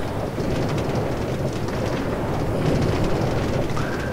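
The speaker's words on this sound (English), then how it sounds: "There's the train." A train rumbles steadily in a video game, a continuous low rolling noise with a brief higher tone near the end, heard alone without speech.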